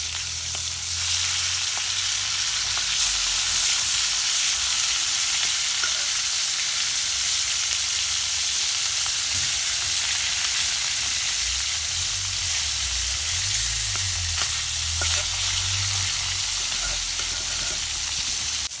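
Surma fish, already flipped, frying in oil: a steady, close, loud sizzle with occasional spatters and light stirring noises underneath, continuing without pause or speech.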